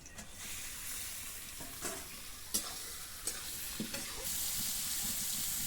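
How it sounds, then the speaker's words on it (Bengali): Marinated chicken goes into a pan of fried onions for a village-style chicken and potato curry, giving a steady faint sizzle with a few sharp stirring scrapes and clinks, growing a little louder toward the end. "পেঁয়াজটা ভাজা হয়ে গেছে, এবার মেখে রাখা মাংসটা আমি ছেড়ে দিচ্ছি।"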